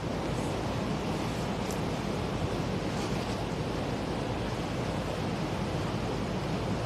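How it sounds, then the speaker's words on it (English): Steady, continuous wash of water and surf heard outdoors at a peaceful spot, a broad even rush with faint wind, holding at an unchanging level throughout with no talk. "Can you guys hear the water?"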